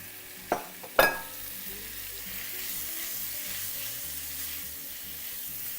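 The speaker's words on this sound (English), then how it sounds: "And then first we're gonna throw in the steak." Steak tossed into a pan of hot sesame oil for beef and broccoli chow mein lands with a couple of sharp thuds, then a loud, steady sizzle continues close by.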